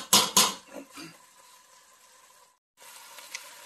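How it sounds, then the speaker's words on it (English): A few clanking utensil hits in a pan, then a steady soft sizzle of beef frying in beef fat that cuts out briefly and returns. "You see that sizzling sound?"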